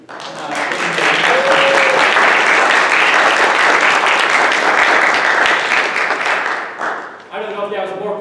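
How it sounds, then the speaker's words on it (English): A church worship congregation breaks into loud, sustained applause for several seconds, then tapers off, with a voice and a held tone coming in at the end. "I don't know if that was more clapping for Joe or more clapping for Hillary"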